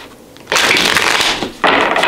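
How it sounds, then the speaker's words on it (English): Tarot cards shuffled by hand in two loud bursts of riffling, the first lasting about a second and the second starting after a brief pause, with no talk over them. "I'm going to get these cards shuffled here."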